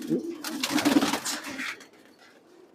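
Pigeons at a loft coo softly in low, throaty bursts with a steady rolling rhythm, close by, fading after a couple of seconds before another coo begins.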